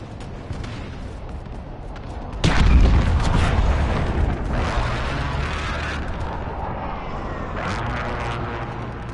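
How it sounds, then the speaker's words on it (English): Enemy precision airstrike in a Modern Warfare Ground War match: a sudden heavy explosion erupts, followed by a long rumbling roar and further blasts, with jet-like noise carrying through the loud battlefield ambience. "Enemy precision airstrike, take cover."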